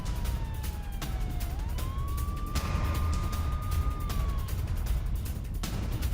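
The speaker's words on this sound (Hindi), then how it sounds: "तो देखिए, जंग का सायरन," A wailing war siren sounds during a civil defence mock drill, its tone rising, holding steady and then falling, with a constant rumble of traffic and street noise underneath.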